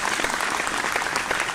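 Audience applause at a televised singing competition as the top six contestants are saluted: a full, continuous roar of clapping, fairly loud and even throughout its short span, with no voices on top.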